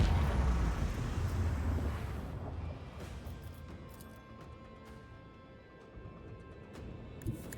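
Macro cannon firing in Warhammer 40k Rogue Trader, a heavy booming blast that opens loud and rolls off into a long rumbling decay, with faint crackles trailing after.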